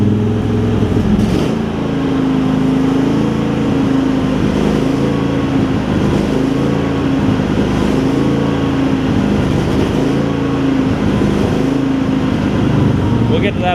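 Craftsman garden tractor engine, once parked for three years, running steadily while the tractor drives, with a close, even drone that pulses gently throughout.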